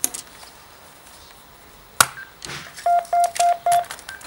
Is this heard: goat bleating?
no